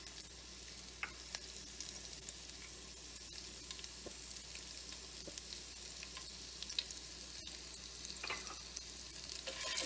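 Ginger and green chili sautéing in ghee and sesame oil for rava pongal, a steady soft sizzle with occasional stirring scrapes, close and fairly quiet, no talking.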